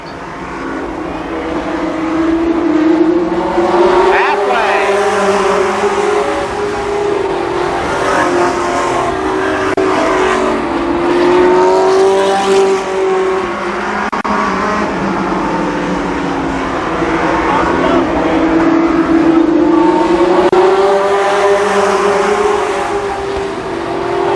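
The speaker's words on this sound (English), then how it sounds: "Drops the tire off the track in turn 2, and Virgil Fields takes advantage." Race cars roar around the oval at Columbus Motor Speedway in a 1993 race, engines droning loudly and rising and falling as they pass through the turns in steady, overlapping laps.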